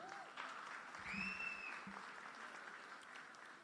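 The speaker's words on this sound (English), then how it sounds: "Applause, please." A crowd at a public meeting in Nashua applauds a speech, steady clapping filling the space, with a faint whistle-like tone and a brief voice underneath.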